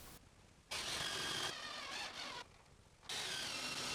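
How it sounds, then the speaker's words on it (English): Screwing a pallet board into a vertical piece while building an Adirondack pallet chair: two whirring bursts of driving a screw, with a brief lower stretch between them, fairly close in a quiet setting. "I clamp the board to screw the vertical piece"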